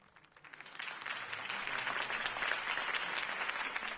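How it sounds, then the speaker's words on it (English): Video game crowd applauding after a campaign speech, swelling from a faint start into sustained, dense clapping from many people at a distance, filling the whole stretch. "If only Mr. Wayne, my campaign's largest backer, could have heard that applause"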